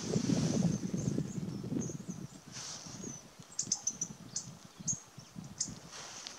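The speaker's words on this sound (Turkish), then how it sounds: "burada farklı hayvan, farklı kuş sesleri duyuyorum." Several wild birds call outdoors, with brief, fairly faint chirps and tweets coming at intervals over a soft background of rustling and wind.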